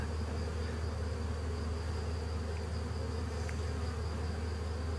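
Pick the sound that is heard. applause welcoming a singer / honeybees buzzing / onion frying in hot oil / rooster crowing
honeybees buzzing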